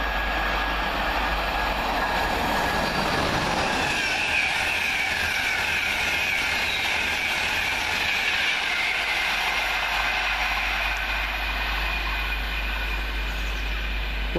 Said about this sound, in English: This could be the Leeds train.